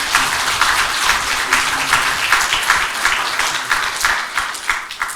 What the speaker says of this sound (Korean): 하나님께 영광의 박수와 우리 모든 성도들에게 박수를